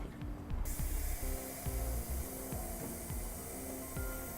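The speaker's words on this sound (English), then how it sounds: "we'll use some soapy water and spray down all of our connection points for our air lines" Soapy water sprays in short, repeated hissing bursts onto the air line connection points of Firestone Ride-Rite air helper springs on a 2012 Ford F-250, each spritz sharp and close.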